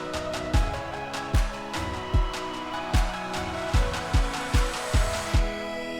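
An electronic dance build-up heading into a drop, with punchy kick hits arriving in a regular pulse under bright synth layers and crisp high percussion, loud and close.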